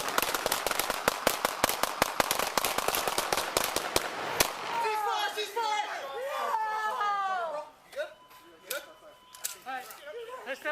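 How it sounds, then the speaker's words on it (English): A rapid volley of sharp, close gunshot cracks, officers' M4 rifles among them, fires in quick succession for several seconds, then stops as agitated voices and shouting take over. "That first shot actually came from the left side"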